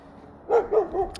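A dog barks three times in a quick, even rhythm, close and fairly loud against a quiet background, with no talking.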